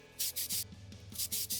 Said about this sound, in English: Now I can sand it down.